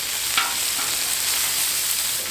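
Chicken wings sizzle steadily on a hot Blackstone griddle, with one brief scrape as they are flipped. The frying hiss is close and continuous, and no one speaks.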